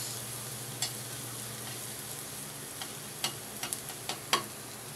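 Garlic frying in a pan before onions are added, a steady soft sizzle running throughout with a few sharp ticks and clinks of stirring, fairly quiet and with no talking.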